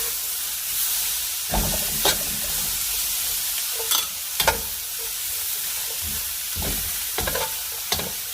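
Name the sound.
fresh vegetables and pork sautéing in a pan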